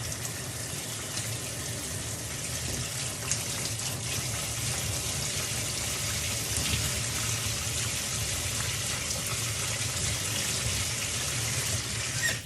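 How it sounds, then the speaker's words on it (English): Steady running water pours from a tap for the whole stretch as a hairbrush is rinsed beneath it, a continuous even splashing with no talk. "I'm just going to rinse it out until it runs clear"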